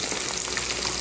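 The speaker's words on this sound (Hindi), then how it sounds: "4 से 5 मिनट हो गए हैं इन्हें फ्राई होते हुए दूसरी साइड से।" Chicken broast pieces fry in oil with a dense, loud, crackling sizzle that stays steady and close throughout, with no voices.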